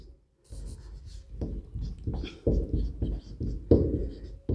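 Pen or chalk writing a chemistry formula by hand, close scratchy strokes in short bursts separated by brief lifts, fairly quiet with no talking over it.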